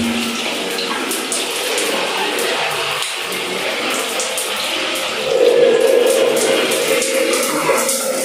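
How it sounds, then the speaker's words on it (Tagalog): A rain shower head on a single-point shower with a hot water heater runs steadily, a loud, close, continuous hiss of falling water with a slight change in tone partway through. "Ito po yung rain shower natin."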